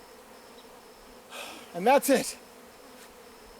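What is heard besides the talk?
bees at a newly installed hive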